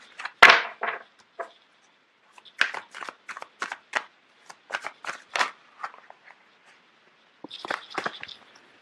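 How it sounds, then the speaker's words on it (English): Tarot cards riffled and shuffled by hand, cards spilling loose: a sharp flurry of papery snaps and slaps, then sporadic close card flicks and taps with short pauses between them, finishing in a brief rustling riffle. "You have a lot of cards that are just popping out all over the place."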